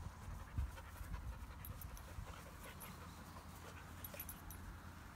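A dog pants steadily and lets out a few soft whimpers close by, at a dog social gathering, with a low rumble of background noise and no talking.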